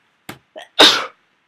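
A single close sneeze comes from a person, with two short sharp breaths before one loud, breathy burst, then silence.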